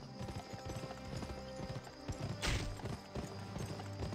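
Horse hooves clip-clop steadily in Red Dead, a ridden pony moving at a walking pace with a brief burst of noise partway through.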